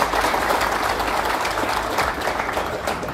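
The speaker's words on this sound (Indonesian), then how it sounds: "Aplaus untuk beliau." Audience applause at an Indonesian gathering on restorative justice, a dense, steady wash of clapping that holds evenly for a few seconds with no voices over it.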